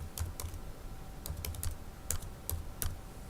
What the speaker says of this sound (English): and then you just type certificate